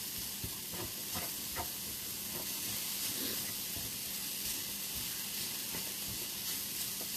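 Vegetables and spices sauté in a shallow pan with a steady, close sizzle, and a utensil stirring and scraping through it in irregular strokes.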